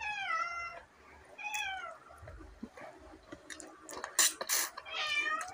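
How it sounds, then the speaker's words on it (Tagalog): A domestic cat meows repeatedly at close range, a few drawn-out calls spaced across the moment, with a few sharp clatters near the end as food is being eaten nearby. "Ang pusa pala dito."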